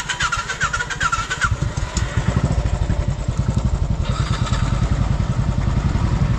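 A motorcycle engine starts and revs close by, then settles into a steady, loud putter with rhythmic low pulses as the bike moves off on a village road near a temple.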